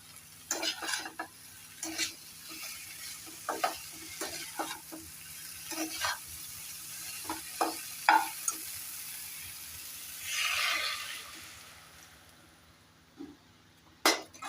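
A pan of vegetarian shukto with neem leaves crackles quietly under repeated light clinks of stirring, then water poured in sets off a brief swelling hiss of sizzle that fades away, followed by a couple more clinks.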